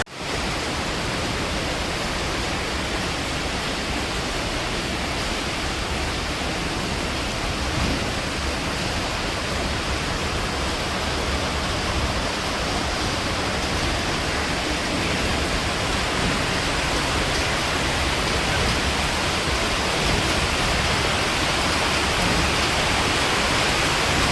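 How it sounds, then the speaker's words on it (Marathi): Heavy, constant rain pours down at Panvel railway station in a dense, unbroken roar that stays loud and even throughout, with no voices. "आता पनवेल रेल्वे स्टेशनला पाऊस पडतो आहे"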